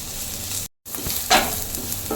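Vegetables for veg fried rice sizzling in oil in a pan, a continuous close fry with stirring scrapes, cut by a brief moment of silence before the sizzle resumes.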